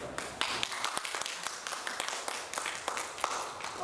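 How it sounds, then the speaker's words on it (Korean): A church congregation at a Korean mission church claps to welcome a visiting pastor: scattered, quiet hand claps with uneven rhythm, heard from some distance in a reverberant room. "우리 한번 박수라고 환영하십시다"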